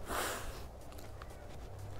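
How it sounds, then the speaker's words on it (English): A person sniffs at a freshly caught fish on a muddy shore after fishing with a budget Kmart jig, giving one short nasal sniff near the start followed by faint outdoor background noise. "Let's give it the little sniff."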